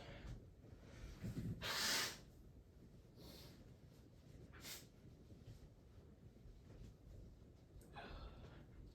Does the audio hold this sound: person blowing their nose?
yes